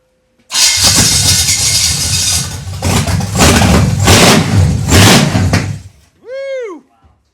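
A car engine with no exhaust fitted fires up and runs raw and loud, surging in a few bursts of revving before cutting off, followed by a short whooping sweep of sound.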